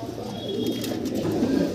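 Fancy pigeons, including Andalusian and imported English Modena breeds, coo in a low, steady rolling murmur that carries on through the whole stretch, close and fairly loud with no talking over it.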